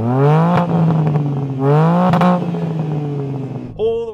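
A BMW M3 engine revs hard twice, climbing and bouncing off the soft limiter each time, loud and close, then settles before a brief blip.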